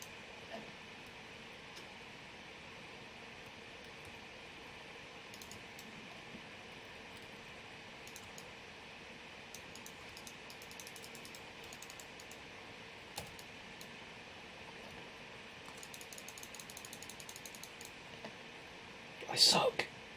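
A Razer Blade Pro FHD laptop's cooling fans run under load during Battlefront 2 gameplay, a faint steady whir and hiss held throughout, with light keyboard clicks scattered across it.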